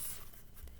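A marker drawing small heart shapes on paper squares during a children's art lesson, a faint, brief scratchy stroke with no talking.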